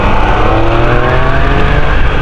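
A Triumph 660 motorcycle pulls away and accelerates through city traffic, its engine loud, close and steady with a rising drone and no talking over it.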